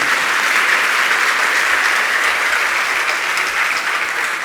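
Loud, sustained applause from a large crowd, dense clapping that holds steady throughout with no pauses.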